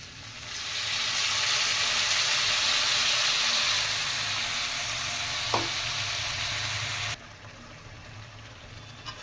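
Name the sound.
potatoes frying and stirred with spices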